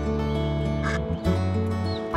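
Mother duck giving a few short nasal quacks close by, set against a steady tonal hum in the background.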